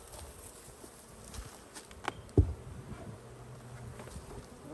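Honey bees hum in a steady, diffuse drone at a Western Michigan hive during a swarm cell check, with a few faint knocks and one brief thump partway through, and no talking.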